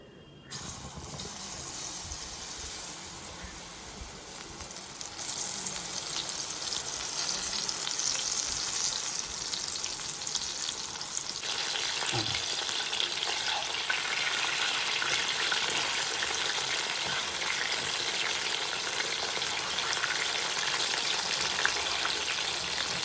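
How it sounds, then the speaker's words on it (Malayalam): Mushrooms frying in hot oil in an iron pan, a steady loud sizzle with crackling throughout, intensifying partway as food is stirred, with no talking. "എണ്ണ ചൂടായിട്ടുണ്ട് ഫ്രൈ ചെയ്യണം"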